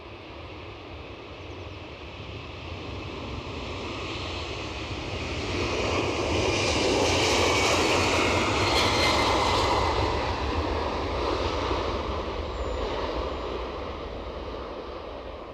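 A Delta jet airliner takes off at Edinburgh Airport with a broad engine roar that builds to a loud peak midway, then slowly eases as it climbs away.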